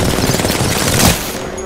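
Rapid automatic gunfire from an Apex Legends firefight rattles continuously at close range, loud and dense with a heavier burst near the end.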